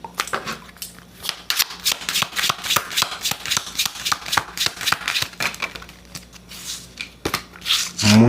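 Tarot cards are shuffled by hand in a steady run of quick riffling flutters and soft slaps that continues for several seconds, close and fairly loud.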